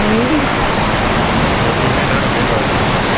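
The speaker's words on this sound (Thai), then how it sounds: "ท่ามกลาง เสียงน้ำตก" A waterfall in the mountains of Mae Kampong, Thailand, roars in a dense, unbroken rush of falling water, loud and close, with a faint voice briefly audible beneath it.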